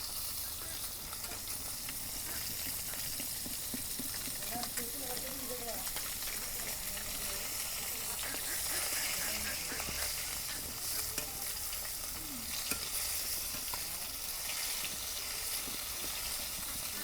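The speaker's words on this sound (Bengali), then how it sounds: "মাছ এক পিঠ ভাজা হচ্ছে, আর এক পিঠ ভাজুন" Big fish pieces fry in oil in a pan while cooking a village dish with tomato and eggplant, giving a steady loud sizzle throughout with light stirring clatter.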